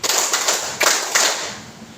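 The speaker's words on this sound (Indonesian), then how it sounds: "Tepuk 1, tepuk 2, tepuk 3, oke. Tepuk 4," A group of participants in a teacher-training session claps together in a rhythmic clapping game, with four or so sharp, slightly ragged bursts in close succession fading into room reverb.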